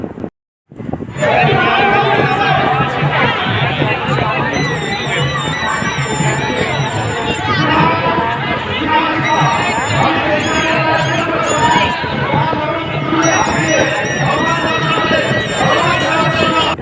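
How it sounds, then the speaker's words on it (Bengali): A dense crowd at a busy, packed village fair fills the air with a steady, loud babble of many voices and chatter, with occasional higher calls or whistles cutting through, continuous and close throughout. "খুব জোরের মেলা, মানে প্রচুর লোক হয়েছে, এত ভিড় হয়েছে"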